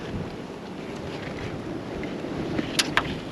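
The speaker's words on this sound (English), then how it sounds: "It's a little breezy." Steady breeze buffeting the microphone outdoors near Saratoga Hot Springs, a continuous low rumble with no talk and only a couple of faint ticks near the end.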